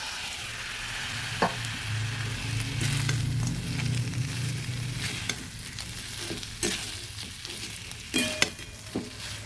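Fried katla fish head, potato and raw rice stirred through sizzling spices in a pan, a continuous close frying hiss broken by several sharp scrapes and knocks of the spoon, no voices.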